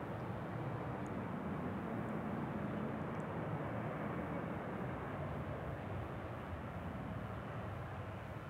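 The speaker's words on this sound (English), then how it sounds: "Allegiant A319 from Florida." Allegiant Airbus A319 airliner from Florida at Kansas City International Airport, a steady distant jet roar holding level throughout without voices.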